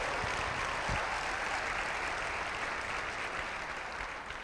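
A church congregation at a family service claps together in a steady wash of applause, moderately distant and even, with a few sharper individual claps near the start.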